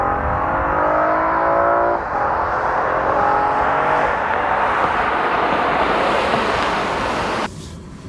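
A 2015 Volvo S60 T6 in sport mode runs hard from 0 to 60 mph, its engine climbing to redline with automatic upshifts, heavy wind and road roar throughout, then easing off near the end.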